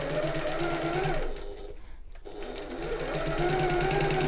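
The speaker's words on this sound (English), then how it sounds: "I'm going to start with my back stitching." A sewing machine back-stitches the seam of a shoulder bag, its motor running with a steady whirring hum, briefly pausing midway before driving on again at full speed.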